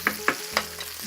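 Chicken cacciatore sizzling in a big pot, with three quick scraping stirs over a steady close hiss in a short burst, no voices.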